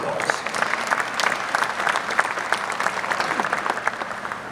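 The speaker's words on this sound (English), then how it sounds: "Please give them a round of applause." An audience at an Orlando Magic 25th anniversary event applauds the team's 25-year partners, a loud, sustained wash of clapping from a large indoor crowd that continues evenly throughout.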